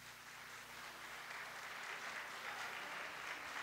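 Audience applause at a Haitian community book fair, a steady dense wash of clapping from a crowd that holds evenly throughout with no talk over it.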